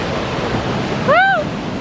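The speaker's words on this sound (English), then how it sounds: "Look at these waves." Sea waves crash on the Cornish coast with a loud, steady roar mixed with wind buffeting, and a brief, clear whistling call rises and falls over the surf.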